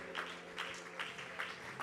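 A church congregation clapping hands in a steady rhythm, about one clap burst every half second, moderately faint with a sustained musical drone underneath.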